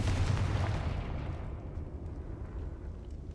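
A Confringo fire spell blasts in the Hogwarts Legacy video game, a loud close boom that fades into a rumbling tail, with no talking.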